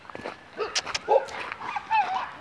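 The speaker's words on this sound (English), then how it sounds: "Hey, doggy." A dog yips and barks several times outdoors, the sharp calls mixed with whimpers and coming in short irregular bursts at close range, while a person speaks softly in between.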